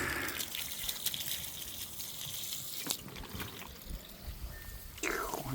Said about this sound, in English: let's go check the flow out the drain